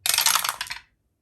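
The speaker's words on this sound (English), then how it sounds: "And we get to roll 2 dice" Two dice rolled together during a Corsair Leader board game make a quick rattling clatter for under a second, then stop in silence.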